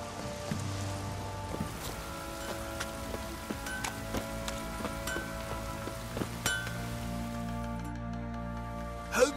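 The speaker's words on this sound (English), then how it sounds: "Stop raining my arse will rot off." Light rain patters steadily in The Witcher 3: Wild Hunt, soft drips and ticks over a low sustained game ambience and droning tones, with a few sharper clinks scattered throughout.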